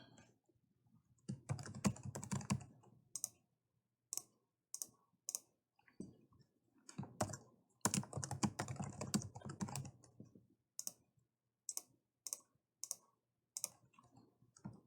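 Someone types on a computer keyboard while entering data into an app builder, with close, crisp key clicks arriving in quick irregular bursts separated by short pauses, quiet and with no talking.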